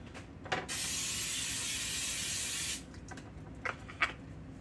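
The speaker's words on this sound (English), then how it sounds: "And I'm going to spray the pan with some nonstick." Baker's nonstick cooking spray, a flour-containing type, is sprayed onto a pan. One steady hiss lasts about two seconds, followed by a few faint clicks and light handling noises nearby.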